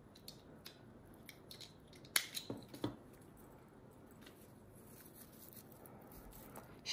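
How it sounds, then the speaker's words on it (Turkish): Scissors snipping crochet yarn, a few quick soft cuts clustered together, close but faint over a quiet room background with no talking. "İpimizi buradan kesebiliriz."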